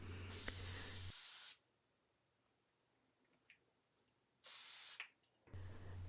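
Starch spray hisses onto knit fabric held over a sink in a laundry room, two close bursts of spraying separated by a quiet pause, the second split into two short sprays.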